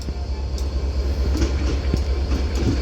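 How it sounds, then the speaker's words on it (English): A London Northwestern Railway Class 730 electric train arriving at Crewe station, a loud steady rumble of rolling wheels with rhythmic clicks over rail joints and a continuous low drone, heard close without voices. "Terminating in over here though is going to be a London North Western Railway Class 730"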